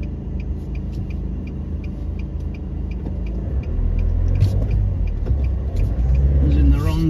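A car pulls onto a highway from the Kuranda Range road toward the Trinity Beach turnoff, its engine and road rumble steady at first, then swelling louder and heavier as it gathers speed, with a voice talking over it.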